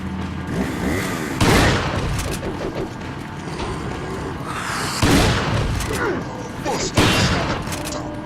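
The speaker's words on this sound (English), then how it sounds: "let's just jump right into the shotgun" Shotgun blasts in Resident Evil 4 come as three heavy booms a couple of seconds apart, each followed by clatter and rumbling game noise, with a voice talking underneath.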